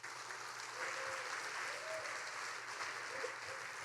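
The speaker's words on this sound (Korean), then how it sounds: "다시 한번 감사의 박수 드리겠습니다" An audience at a Korean CBMC business-fellowship convention in Chicago applauds, a sustained, even wash of many hands clapping heard from some distance at a fairly quiet level, with a faint voice underneath.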